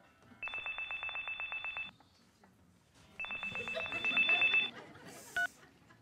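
A telephone rings among a theater audience with two long bursts of rapid electronic trilling and a short tone after them. A voice is heard faintly between the rings.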